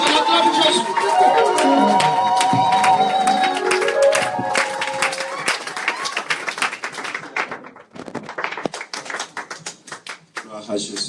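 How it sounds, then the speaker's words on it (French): A church congregation claps and acclaims as a pastor approaches, loud rhythmic clapping mixed with sung and shouted voices, crowded and close, loosening into scattered claps and talk toward the end. "quand il s'approche, on acclame Jésus fortement"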